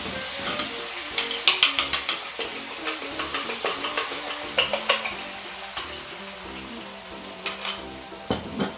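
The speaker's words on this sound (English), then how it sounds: "you're going to add in your eggs." Eggs fry in a hot pan while being gently stirred, giving a soft sizzle under repeated sharp scrapes and clinks of the utensil against the pan, close and clear.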